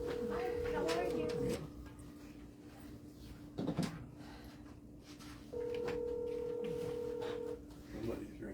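Telephone tones sound during a regular water district board meeting as a call is placed for remote attendance. Two long steady tones and some shorter beeps play at moderate volume, with voices talking in the room around them.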